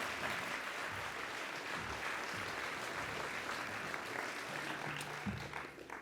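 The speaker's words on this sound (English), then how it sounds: "Please give him a round of applause." A roomful of people clap steadily at an animal justice awards evening, a sustained, even wash of applause for the whole stretch, heard at a moderate distance with no talking over it.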